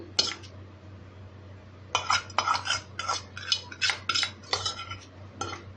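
A spoon stirs onion and pepper into dosa batter in a metal bowl, a quick run of clinking, scraping strokes after a pause, close and clear over a low hum.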